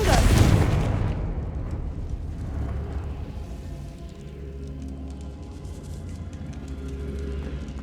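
A Confringo fire spell explodes in the video game Hogwarts Legacy, a sharp booming blast at the start that fades into a long rumbling roar with lingering low ambience.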